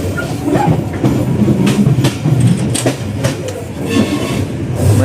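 A train rolls through Pasar Senen station in Jakarta, loud and close, with a continuous rumble and repeated wheel clacks over the rails.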